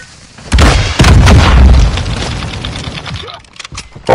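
A Javelin missile detonating in a first-person shooter game, a loud close boom at the start followed by a second heavy blast and a long rumbling decay, with a few sharp cracks near the end.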